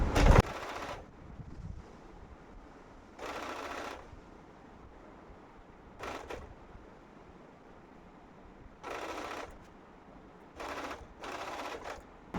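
A sewing machine runs a plain straight stitch along saree pleats, in six short bursts of whirring separated by quiet pauses while the cloth is adjusted.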